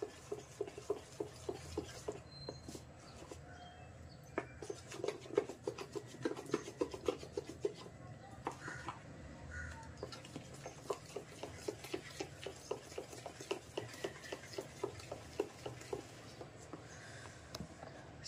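Urad and moong or chana dal vada batter being mixed by hand in a bowl, giving a steady wet rubbing and squishing with soft repeated strokes, close and fairly quiet, with no talking.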